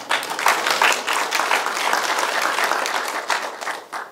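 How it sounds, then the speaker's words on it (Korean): A seated crowd at a community association chairperson's inauguration ceremony breaks into steady applause, dense, close clapping that swells and holds for several seconds before tapering off. "큰 박수 부탁드리겠습니다"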